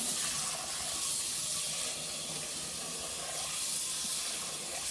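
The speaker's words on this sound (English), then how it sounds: "I'm going to melt off all that fat with some hot water" Hot water runs steadily from a tap into a Griswold Iron Mountain cast iron chicken pan, a continuous hissing splash that stays even and close for the whole stretch, with no talking.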